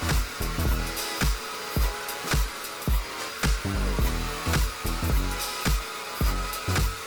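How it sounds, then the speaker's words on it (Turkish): A Philips AquaTrio 9000 cordless vacuum cleaner runs with a steady motor whine and suction hiss, broken by repeated rhythmic thumps and surges as it is pushed back and forth, close and moderately loud, with no talking. "Kalan kısmı zaten süpürgenin emiş gücü hallediyor"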